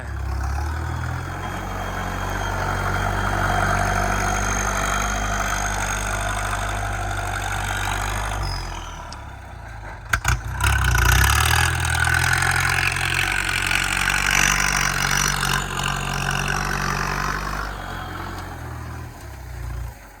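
A heavy diesel tractor engine chugs steadily nearby with a deep low rumble while ploughing rice straw stubble, briefly revving louder midway before settling back to a steady run.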